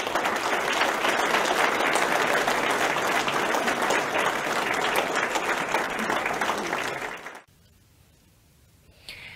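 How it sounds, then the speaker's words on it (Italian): Sustained applause from a large gathering closes an Italian Navy change-of-command ceremony at a harbour in Carrara, a dense steady clatter of many hands for about seven seconds before cutting off to near quiet. "L'applauso ha chiuso la cerimonia di avvicendamento del comandante."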